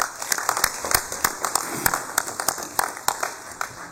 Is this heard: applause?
yes